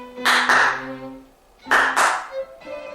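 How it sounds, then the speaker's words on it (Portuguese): Two quick, sharp hand claps close up in a quiet room, used to switch on an LED through a microcontroller, followed by a pause and another pair of crisp claps. "Então 2 palmas ele acende"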